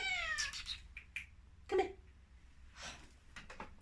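A cat meows several times in short, fairly close calls, the cries a little strained, with faint handling noise and no speech.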